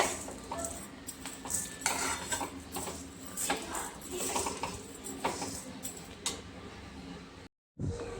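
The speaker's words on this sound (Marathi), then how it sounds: "परत परत चाळत राहायचं आणि लालसर होईस तोपर्यंत भाजायचं आहे आपल्याला तांदूळ आणि डाळी" Rice and lentils dry-roasting in a pan, stirred over and over: a steady scrape and rattle of grains with metallic spoon clinks, continuous and close, cutting out briefly near the end.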